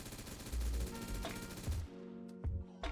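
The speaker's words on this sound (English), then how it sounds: "we'll fire at this vehicle for further distance" Bursts of M416 rifle fire in the Roblox shooter Flashpoint, loud and close, with several short automatic strings and single sharp shots aimed at a vehicle, each followed by a brief echoing tail.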